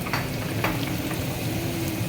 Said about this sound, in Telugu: నెయ్యి మరుగుతుంది.